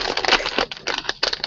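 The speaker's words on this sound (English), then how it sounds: "You crumpling that is like, it sounds like an earthquake going on." Something is crumpled right against a microphone, loud crackling and rustling in rapid irregular bursts with brief gaps, filling the sound entirely with no talking.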